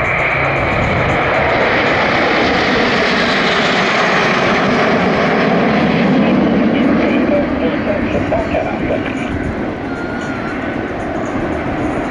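Patrouille de France jets fly in tight formation at the 2023 French-Flyair airshow in Trouville, their engines a loud, continuous, rushing roar that swells and slowly eases as they pass.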